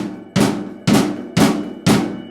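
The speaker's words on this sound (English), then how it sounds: "a bit of a tiny flam here and there sounds pretty bad" Four evenly spaced, loud drum hits played slightly out of sync as flams, each with a smeared doubled attack and a ringing, washy decay. Close and unaccompanied.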